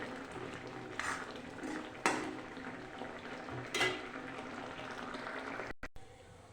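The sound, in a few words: stirring egg curry in a pan after adding garam masala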